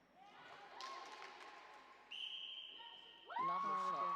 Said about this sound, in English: You can see the girls cheering their teammates on.